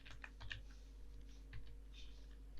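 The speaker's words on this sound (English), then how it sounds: "what I'm going to do is type in equal and then type in work days" Soft keystrokes on a computer keyboard while entering an Excel formula, a few quick taps in short clusters with pauses, faint and close over a steady low hum.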